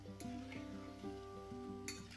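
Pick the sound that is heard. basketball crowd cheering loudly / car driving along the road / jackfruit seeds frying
jackfruit seeds frying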